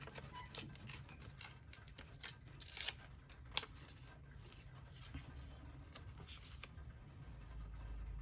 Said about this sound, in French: Ça, j'ai envie de le déchirer